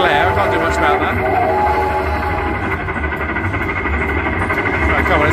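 A Midnight Express slot machine in a Las Vegas casino plays its train-themed sound effect. A steady, loud rumble of a rolling train with whistle tones sits inside the busy casino din while a person talks over it.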